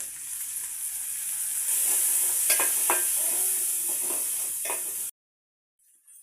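Peas with turmeric fry in hot oil with a loud, continuous close sizzle and a few stirring scrapes, stopping abruptly into near silence for the last second or so.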